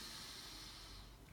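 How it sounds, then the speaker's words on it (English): A deep diaphragmatic inhale drawn in through the nose during a floor exercise, a steady soft airy hiss lasting over a second, close and quiet with no talking. "we're taking a nice big breath diaphragmatically through our belly. So it's in through nose."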